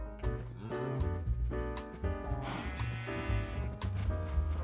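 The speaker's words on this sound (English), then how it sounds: "Come with me, sheep." Sheep bleating in the Minecraft video game, several short wavering bleats that overlap each other and sit under an ongoing game music bed, fairly near and clear.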